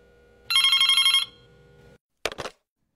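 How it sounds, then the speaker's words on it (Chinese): A telephone bell gives one short, bright burst of rapid ringing, then falls silent. A brief clatter follows, like a handset being lifted, in a quiet room. "夏小兰正好接到了叶小琼打来的电话"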